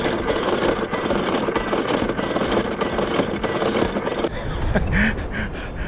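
A sailboat's engine drones steadily as it motors into a bay in calm conditions, a continuous close, mid-pitched hum with knocking vibration that stays loud throughout, with brief faint knocks near the end.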